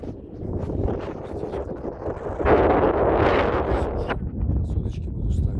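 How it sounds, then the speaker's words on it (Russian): Steady outdoor wind from the south buffeting the microphone on a snowy, watery lakeshore, a low rumbling roar that swells louder midway through, with no talking. "Ветер южный."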